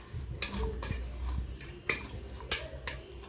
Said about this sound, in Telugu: కొంచెం పెప్పర్ పొడి, వేసుకొని బాగా మిక్స్ చేసుకోవాలి